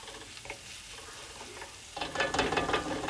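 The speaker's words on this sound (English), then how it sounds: "Be careful, keep stirring them up" Garlic and onions stirred in a frying pan, a soft sizzle with scraping and clicking of the utensil, growing louder and busier toward the end, no voices.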